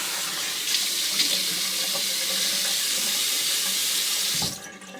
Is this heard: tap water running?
yes